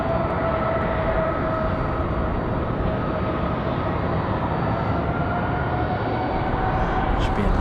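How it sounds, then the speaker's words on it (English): An American Airlines Airbus A321 jet departing Raleigh-Durham International Airport, a broad steady engine roar that holds loud and constant throughout, with wind adding to the wash of noise. "Should be a nice departure."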